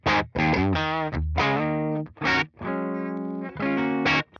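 Electric guitar through a Tone King Imperial tube preamp, with heavy distortion, plays several sustained chords and short riffs, separated by brief pauses, loud and up close.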